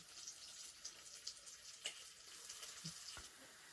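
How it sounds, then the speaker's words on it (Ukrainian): Steady, quiet sizzling of sausage frying in a pan, with a few faint clinks and scrapes over the constant crackle. "ковбасу просмажую на пательні"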